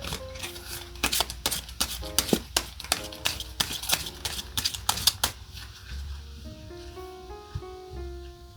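Tarot cards being shuffled and drawn: a rapid run of crisp riffling snaps and flicks, close and clear, giving way to soft music near the end.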